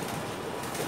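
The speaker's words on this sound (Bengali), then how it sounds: "এটা হচ্ছে আপনার চিলা কবুতর।" A single soft pigeon coo from a Chila pigeon at a busy pigeon market in Dhaka, brief and close, with no talking.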